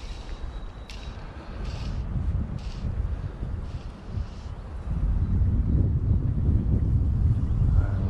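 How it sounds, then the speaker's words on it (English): Strong wind gusts roar and buffet the microphone beside a trout river during a grannom hatch, a steady rumbling rush that grows louder and heavier partway through. "Wind just increasing further and further."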